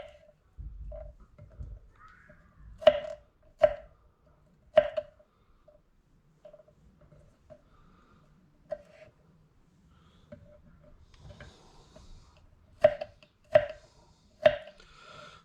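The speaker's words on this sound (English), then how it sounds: "cut up some more garlic" Garlic cloves being chopped with a knife while cooking a stuffed rump roast: sparse, sharp knocks come in a cluster of three, then a quiet stretch, then another quick group of three, with faint kitchen background between.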